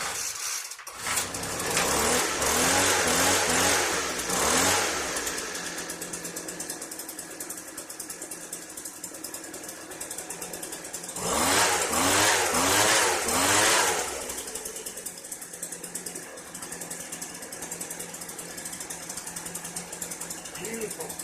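A 2010 Poulan leaf blower, small two-stroke engine, starting and running at full throttle with half choke, loud and steady with two surges of revving, under a voice talking.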